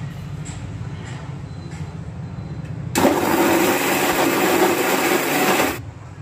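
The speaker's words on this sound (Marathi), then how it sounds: "त्यावर आता मी झाकण झाकून या मिक्सरला बारीक करून घेते आहे" A kitchen mixer grinder blitzing torn leftover chapatis cuts in abruptly after a low hum, roaring loudly for about three seconds before switching off.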